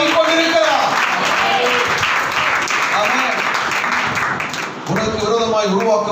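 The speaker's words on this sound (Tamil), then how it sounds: "நல்லா கைத்தட்டி ஆண்டவர் நன்றி சொல்லுங்க" A church congregation at a Sunday service applauds and claps their hands together in a dense, sustained wash of clapping, with voices calling out over it throughout and a brief dip before the clapping and voices swell again.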